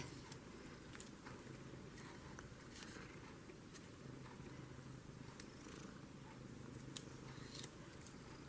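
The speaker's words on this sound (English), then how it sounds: "Petting the cats while I'm working." A cat purrs steadily while being petted on a lap, a low continuous rumble at close range with a few faint rustles and clicks, and no talk.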